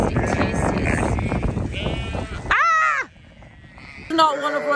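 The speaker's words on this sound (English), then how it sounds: "I'm feeding the sheep" Sheep being fed lamb pellets bleat loudly and close by, one long wavering call and another short one near the end, after a stretch of rustling feeding noise.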